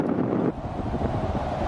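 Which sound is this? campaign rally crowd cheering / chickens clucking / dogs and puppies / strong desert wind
strong desert wind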